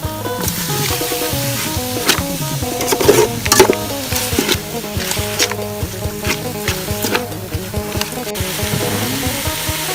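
Busy clattering and scraping over a steady hiss, like food being stir-fried in a hot sizzling pan with fermented fish sauce, close by and continuous.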